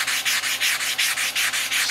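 Sandpaper on a sanding block worked over a boat part during a Glastron GT 150 restoration, heard as a fast, even series of about ten harsh rasping strokes, close and loud, with no talking.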